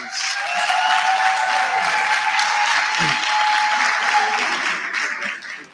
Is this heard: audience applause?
yes